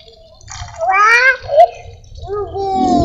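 Water splashes as it is poured over a potted kumquat bonsai during watering, a soft, steady trickle running beneath children's voices chattering close by.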